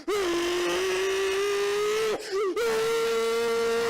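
A rotary-engined car revving hard at high RPM, a loud sustained buzzing howl with a brief dip and lift in pitch partway through before it climbs again, close and without talk.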